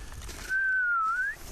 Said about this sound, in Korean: See if we can get the attention from the Arctic fox with whistling.